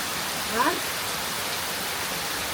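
Heavy monsoon rain pours steadily in coastal Konkan, a dense even hiss throughout, with a brief voice rising near the start.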